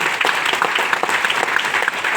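Audience at a lifestyle program event in Jorhat claps steadily, a dense, even burst of applause from a crowd filling the room.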